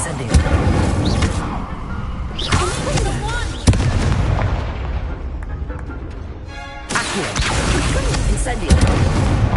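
An Incendio fire spell cast during magic practice at an academy in a video game: booming fiery bursts and crackling blasts, loud and repeated, with spoken dialogue over them.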